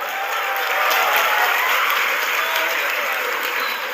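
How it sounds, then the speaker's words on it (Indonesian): Steady, even applause from a gathered crowd honouring Pak Tito, head of immigration at Soekarno-Hatta, many hands clapping loudly and continuously without pause. "Tepuk tangan buat Pak Tito."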